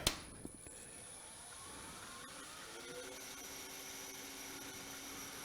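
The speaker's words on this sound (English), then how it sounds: "Grab just a little drill bit." A faint, thin whirring whine as a small drill with a little bit spins up and runs steadily, drilling a hole for a screw eye, after a couple of light clicks at the start.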